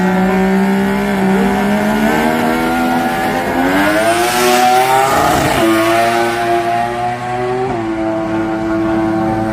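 A drag race car at the Garrett Brisbane Jamboree roars down the strip, its engine note climbing steadily through loud rising harmonics, peaking as it passes mid-run, then settling into a sustained high drone.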